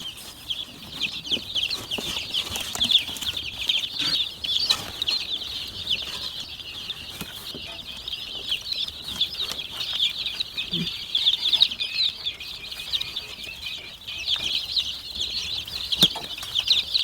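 New chicks on a homestead peep continuously in a dense, high-pitched chorus, close and steady throughout, with scattered rustling and fluttering beneath.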